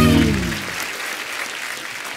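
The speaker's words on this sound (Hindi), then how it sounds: "जोरदार तालियां।" Loud audience applause at a live comedy talk show taping, opening as a strong burst with a brief voice over it, then settling into steady sustained clapping.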